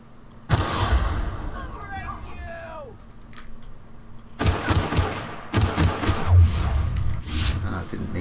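Gunfire from a quick pistol in The Outer Worlds as a marauder is shot, with a loud volley of shots and impacts in the second half after a quieter stretch of game sounds.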